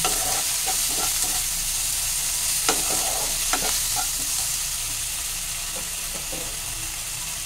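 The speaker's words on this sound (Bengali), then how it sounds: "এবার এই মশলাটাকে আমি ভালো করে কষিয়ে নেব।" Spice paste with ginger paste and chilli being sautéed in a pan for egg tadka dal, a continuous sizzle with scattered scraping taps of a spoon stirring, steady and close.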